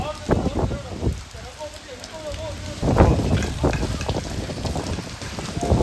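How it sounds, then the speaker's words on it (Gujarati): Light rain patters steadily while strong wind gusts through, a close, dense hiss with sharp bursts, and someone talks over it. "જો વરસાદ છે ધીમો ધીમો ને પવન છે ફૂલ"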